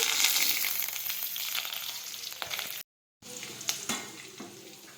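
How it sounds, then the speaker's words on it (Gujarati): Garlic, mustard seeds, asafoetida and curry leaves hit hot oil for adad dal, giving a loud continuous sizzle and spatter close by, briefly cut to silence before resuming with a few crackling pops. "હવે આપણું તેલ છે તે ગરમ થઈ ગયું છે હવે આપણે તેમાં લસણ નાખી દઈશું રાઈ નાખીશું હિંગ નાખીશું લીમડો નાખીશું"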